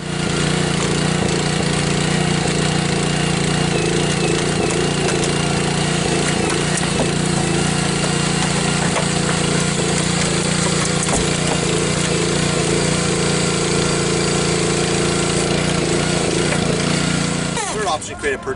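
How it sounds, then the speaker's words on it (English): Hydraulic rescue spreaders working on a car door during a Los Angeles County Fire Department auto extrication drill, heard as a continuous loud engine-driven power unit drone that holds steady for the whole stretch before cutting off near the end. "we're going to place our spreaders down on the door, pinch and crush the door"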